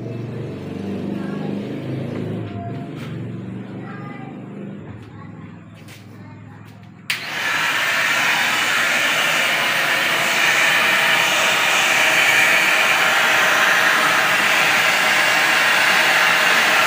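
A vacuum-pump floor cleaner being tested switches on abruptly partway through, starting as a loud, steady broadband whoosh and holding it to the end, after quieter room sound with a voice talking.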